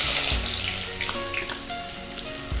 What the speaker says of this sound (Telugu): ఉల్లిపాయ వేస్తానండి.